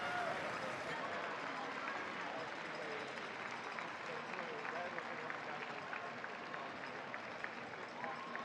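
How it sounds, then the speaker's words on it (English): Arena crowd applauding a FIRST Robotics Competition team at the championship, a steady wash of clapping with distant cheering that holds throughout, with a voice faintly present underneath. "Round of applause for Team 1323."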